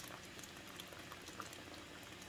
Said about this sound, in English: I boiled some water just in case in here